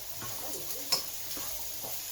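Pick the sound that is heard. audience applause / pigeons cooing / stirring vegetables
stirring vegetables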